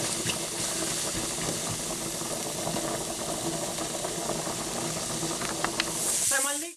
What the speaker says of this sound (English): So my pan has started to sizzle now, and what I'm going to do is I'm going to add the leeks to that